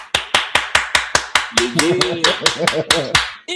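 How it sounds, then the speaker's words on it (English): Sharp hand claps in a steady, fast beat, loud and close, with someone talking over the second half. "So let me get my little round of applause."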